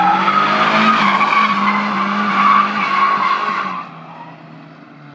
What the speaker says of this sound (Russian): Крутые виражи, визг резины, неизвестный молодой человек выделывает впечатляющие автомобильные па